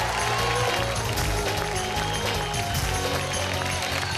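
Dense applause and cheering from a studio audience welcoming the judges of a television show, loud and continuous with music running underneath.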